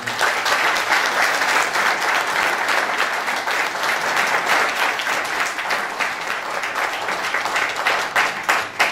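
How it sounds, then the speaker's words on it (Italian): An audience bursts into sustained applause for retiring town council members, among them a longtime former mayor, at a civic list's candidate presentation in Agliè. Dense, steady clapping fills the room from start to finish without pause. "credo che meritino un applauso"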